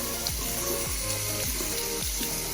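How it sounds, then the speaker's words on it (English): Hot water flows into a kitchen sink to soak a towel for proofing Puerto Rican pan sobao, a steady splashing stream with a few low thumps and gurgles as the towel shifts. "You're gonna soak it in hot water."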